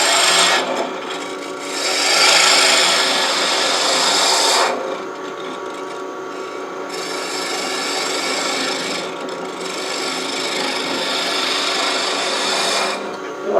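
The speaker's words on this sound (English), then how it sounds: "I'm just going to go back to the spindle rough and gouge and work on that slope" Wood turning on a lathe, with a spindle roughing gouge shaping a slope on a large antique bedpost finial; a loud, steady scraping rasp runs throughout in long passes, with brief drops in intensity between cuts.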